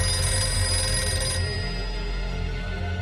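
A telephone rings with a bright, steady electronic tone that cuts off partway through, over a low background hum, with no talk.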